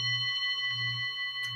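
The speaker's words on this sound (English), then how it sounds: "oh, a nice little impromptu bell." A small bell rings with a clear, sustained metallic tone and bright overtones, lingering steadily close by.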